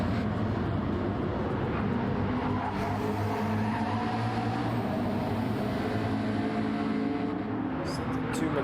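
McLaren race cars on Trial Mountain Circuit in a racing video game, two running close together, give a steady, continuous engine drone with no break or silence.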